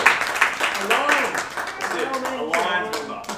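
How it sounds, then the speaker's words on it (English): Audience clapping at an evening community talk in Kalgoorlie Boulder, a brief patter of applause mixed with murmuring voices over a few seconds. "So please bring a round of applause."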